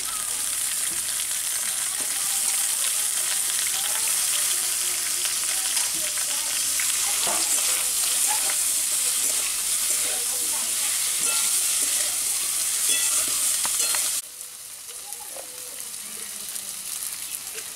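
Pointed gourd sizzles and fries steadily in a hot pan in a village kitchen, a dense continuous crackle that carries on loud and unbroken, easing only slightly near the end.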